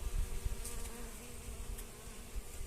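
Steady low insect buzzing from bees hovering close around fragrant musk roses, a continuous hum with brief louder passes, no voices.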